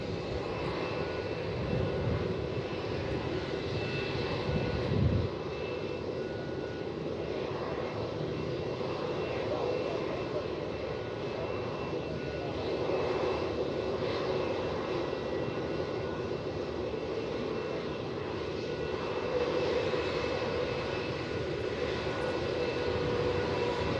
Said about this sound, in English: That Jetstar off to Sydney, we saw the 787. He's going to take off in a minute